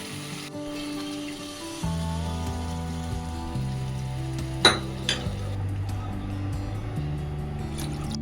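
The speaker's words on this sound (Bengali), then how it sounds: "এবার আমি মাছের মধ্যে জলটা দিচ্ছি আর একটু জল দেবো" Water poured into a pan of simmering katla fish curry sets off a soft, rain-like patter and hiss, with a few sharp splashes under steady background music.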